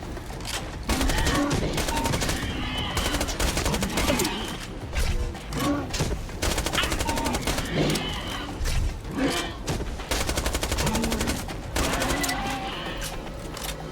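SMG gunfire in the shooter game Borderlands: The Pre-Sequel, dense rapid bursts of automatic shots with mechanical clatter, loud and nearly continuous, with a few short gaps and some talk mixed in.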